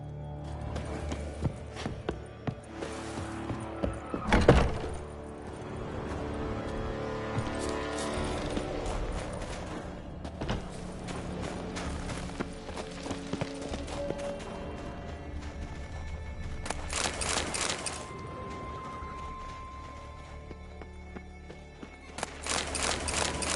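A horse in The Witcher 3 on PS5 clip-clops along in a steady rhythmic trot with an occasional whinny, set against game music and mechanical clatter.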